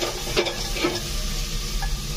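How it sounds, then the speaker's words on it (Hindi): Masala for rajma curry frying in oil, a dense continuous sizzle with a couple of soft stirring scrapes near the start. "अब इसे अच्छी तरीके से भूंजूंगी जब तक तेल ऊपर ना आ जाए।"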